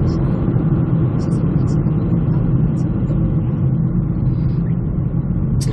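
Steady, loud engine and road rumble from inside a moving Kia Niro hybrid accelerating in power mode, a continuous low drone that holds level throughout.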